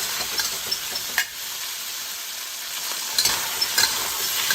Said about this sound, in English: Now we're going to give the beef a quick stir fry.